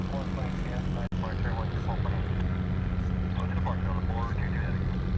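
An airliner departs Honolulu airport with a steady, loud broadband engine roar that fills the whole stretch, and a voice talks faintly beneath it.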